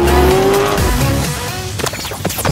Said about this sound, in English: That's a big ass turbo.